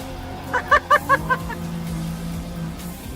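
A BMW M4 GTS slides on a race track as its rear wheels lose grip, giving a quick run of about five sharp tire-squeal chirps over a steady engine drone.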